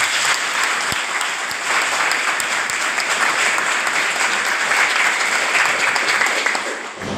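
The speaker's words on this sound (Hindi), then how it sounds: "ताली बजाइए।" An audience at a gathering claps in sustained, dense applause that holds steady for several seconds before tapering slightly at the end.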